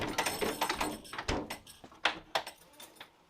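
A Handy gym door anchor being fitted into a door, with a series of close knocks, scrapes and thunks as the strap and anchor are pushed and shut in place.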